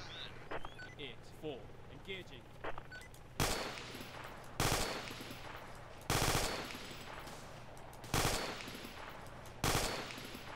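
Gunfire in the military video game ArmA 2, with loud bursts of automatic fire at irregular intervals and quieter distant shots between them, over a steady low rumble and muffled voices.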